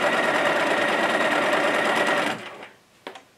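Bernina 1080 sewing machine stitching at its limited half speed, a steady, close mechanical whir that stops abruptly partway through, followed by a couple of small clicks.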